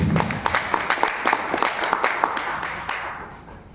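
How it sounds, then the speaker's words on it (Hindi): An indoor audience at a World Earth Day veganism talk claps for the doctors present, with scattered sharp claps at first, then a fuller round of applause that fades out near the end. "आए हैं तो पहले उनके लिए तालियां बजानी चाहिए"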